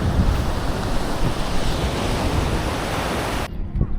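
Sea waves roll onto a beach in a loud, continuous wash of surf mixed with gusty wind noise, steady from start to finish before cutting off abruptly near the end.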